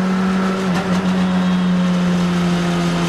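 A car laps the Silverstone F1 circuit on a track day, its engine droning loud and steady with a strong constant tone and slight shifts in pitch, close to the microphone throughout.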